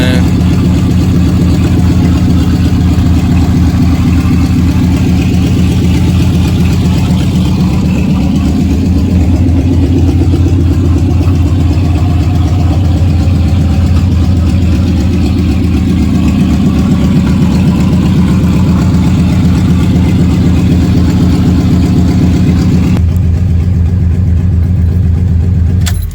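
A 1994 Chevy El Diablo truck, an OBS-era Chevy pickup in need of a tune-up and a radiator, idles loudly with a deep, steady rumble that fills the whole stretch, close and unbroken, with no one talking over it.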